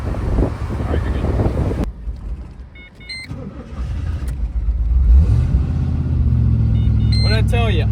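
Worn 1976 Chevrolet Nova driving with a loud engine rumble and wind noise, the engine note rising toward the end, with people talking over it in the cabin.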